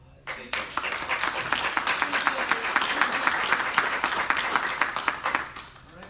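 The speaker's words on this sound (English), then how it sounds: "Round of applause." Applause from a city council meeting audience, a steady round of many hands clapping that swells quickly, holds for about five seconds and then tapers off, heard fairly close in a room.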